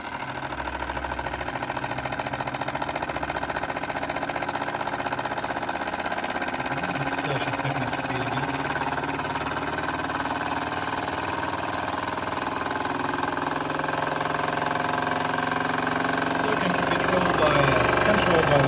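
A Wilesco D20EL live steam engine, 110 V with built-in variac, runs steadily with a continuous mechanical hum and light rhythmic clatter, a voice talking over it throughout.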